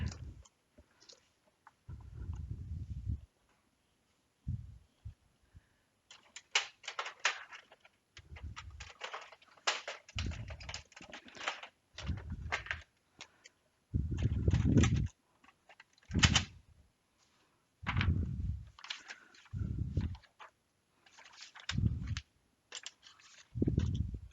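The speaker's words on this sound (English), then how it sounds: "I'm going to go ahead and get my printer loaded." Intermittent clicks, clunks and mechanical whirring bursts as 13 by 19 inch sublimation paper is loaded into a printer's paper tray, with pauses between the handling sounds.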